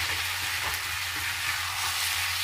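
Bottle gourd koftas drop into fried masala that is already sizzling, a loud, dense frying crackle that runs steadily throughout with no voices.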